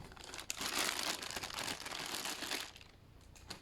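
Plastic bags from Nintendo Switch packaging crinkle and rustle close by, a busy, loud crackling that eases off toward the end.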